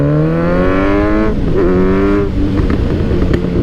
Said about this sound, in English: So many pops and crackles.